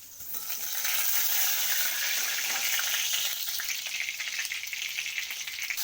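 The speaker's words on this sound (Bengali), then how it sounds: "তেল চলে এসেছে, দেখুন একটা মাছ ভেজে নেব ওর জন্যে" A fish fries in hot oil with a dried red chilli and a bay leaf, giving a steady, close, crackling sizzle that carries on throughout with no voices.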